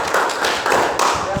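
Elementary school children in a PE class clap in a few quick bursts of hand claps, close by and fairly loud, with voices faintly under them.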